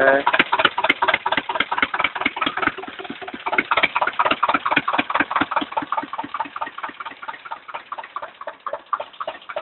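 A freshly overhauled Zetor 25K tractor engine idles close by, a steady rhythmic chugging of regular exhaust pulses; a voice speaks briefly near the start.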